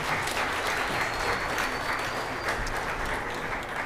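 Steady applause from an audience during a live stream, a dense even patter of many hands sustained throughout at moderate level with no talking over it.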